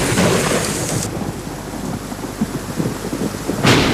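A thunderstorm outdoors, heavy rain hissing steadily on surfaces while a deep rolling thunderclap rumbles near the start and another builds at the end, loud, with no voices.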